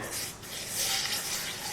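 Sugar and a little water being stirred together in a pan for a semolina and gram flour barfi syrup, a soft continuous scraping and swishing close by, with no talk.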